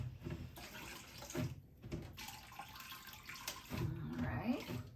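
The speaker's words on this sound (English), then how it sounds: "And I'm gonna rinse it one more time." Running water from a tap splashes over a handspun 4-ply yarn hank being rinsed, a faint close gurgle and spatter with shifting intensity and brief pauses.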